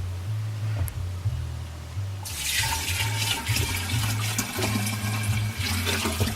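Liquid poured into a vessel while brewing kombucha, a steady splashing pour starting partway through and running loud over a low background hum.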